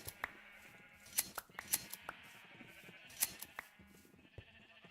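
Minecraft sheep bleat faintly amid sharp, scattered clicks and taps, a few soft calls rising from a quiet game scene with no speech.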